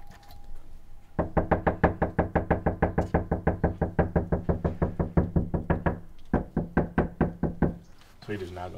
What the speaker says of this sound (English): knocking on my door like you the police